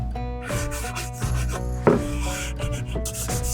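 Clear wax finish being worked into a wooden bathroom piece with a small non-abrasive pad, a steady back-and-forth rubbing and scraping with a tonal hum beneath and one sharper scuff partway through.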